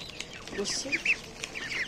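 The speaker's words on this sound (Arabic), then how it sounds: "كل ده فراخ هتاكل، بط هتاكل، كله هياكل" Farm chickens and ducks feeding on grain, giving a few short clucks and soft squawks close by, with scattered pecking and rustling in a quiet yard and a faint voice in the background.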